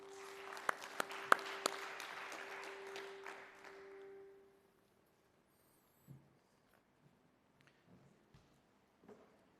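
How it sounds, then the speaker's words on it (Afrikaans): Church audience applauds a band, a burst of clapping with a few sharp claps and a sustained tone for about four seconds, then it dies away into near silence with faint scattered knocks. "Kom ons gee vir hulle 'n hande klap"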